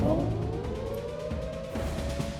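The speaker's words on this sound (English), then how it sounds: "He took things to a disgusting level by playing loud tsunami sirens in a crowded restaurant." A loud tsunami warning siren blares in a crowded restaurant, a steady wailing tone that slowly rises in pitch over rumbling background noise, with no one speaking.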